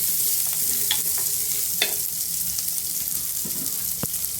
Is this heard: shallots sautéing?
yes